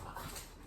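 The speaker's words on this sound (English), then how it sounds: "my dogs are playing" Pet dogs playing indoors, heard as a brief, faint whimper and yip against a steady background hiss.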